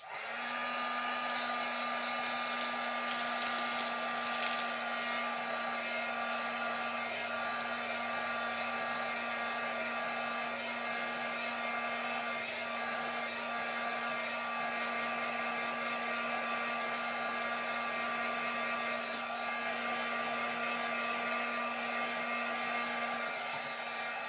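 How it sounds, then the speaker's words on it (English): A heat gun blows a steady, even whir with a constant hum while heat sealing a bag around a bar of soap, running continuously and close with no talking. "And I have this heat gun."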